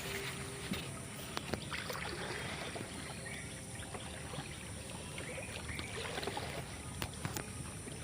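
A rowing boat moves along a river near an old Danish dock at Konnagar, with a steady wash of water and faint paddle knocks running continuously under a broad outdoor hiss, with no talk.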